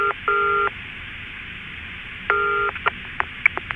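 Radio drama telephone effect for a New York to London call: two bursts of steady dual-tone dialing, then a run of short beeps and clicks as the line connects, clean and alone with no talk.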